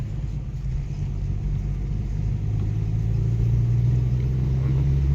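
Car driving a winding mountain road toward Ooty, heard as a steady, close, low engine rumble with road noise that swells slightly as the car accelerates, no talking.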